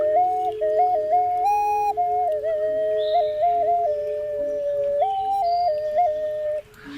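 An ocarina plays a bright, airy melodic line of short trills and warbling notes that mimic birdsong, sustained and fairly loud, with no talking.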